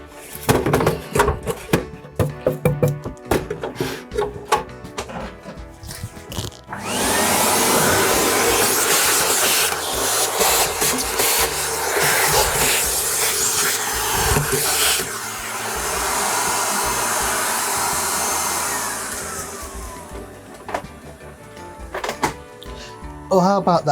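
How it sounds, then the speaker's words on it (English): A vacuum cleaner hoovers dust out of a Coomber PA cassette recorder, roaring steadily for about thirteen seconds between bursts of handling clatter and knocks. "I'm going to stand it up and hoover the dust out."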